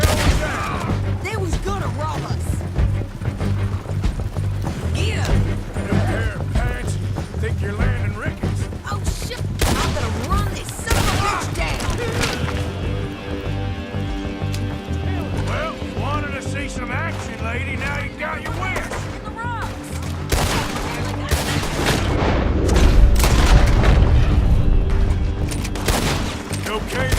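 A Red Dead Redemption 2 shootout with bursts of close gunshots and scattered distant fire, game music swelling underneath and a heavy rumble near the end, with people talking over the fighting.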